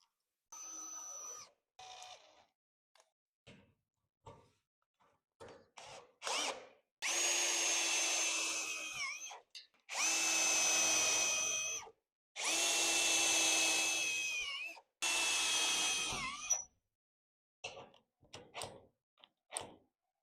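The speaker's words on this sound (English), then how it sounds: "I'm gonna go ahead and mark the holes so I can put some self-tappers in here" A power drill drives self-tapping screws into metal in a shop, giving several separate loud whirring bursts of a few seconds each, with short gaps and faint handling clicks between them.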